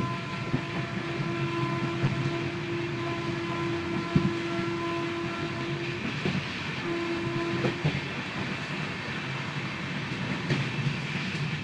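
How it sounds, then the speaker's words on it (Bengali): The Sealdah–Jalpaiguri Humsafar Express rumbles steadily from inside the moving train, with wheel clatter and a sustained tonal hum or horn note rising and fading over the noise, without talk. "ট্রেন খুব সুন্দরভাবে এগিয়ে চলেছে"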